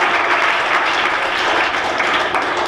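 Full school audience applauding at a high school special program, a loud, continuous and even roar of clapping with no gaps throughout.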